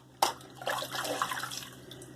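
Water splashes briefly over a straight razor being rinsed after it is closed, starting with a sudden close spatter and trailing into a short, fading wash.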